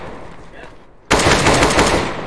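Rapid automatic gunfire erupts loudly in Counter-Strike: Global Offensive after a second of quieter background noise, a dense continuous burst of shots that fades slightly toward the end.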